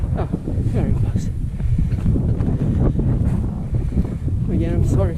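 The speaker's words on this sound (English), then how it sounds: "Again, I'm sorry for the wind." Wind on a mountain hike in Norway rumbles and buffets the microphone continuously, with people talking intermittently over the gusty roar.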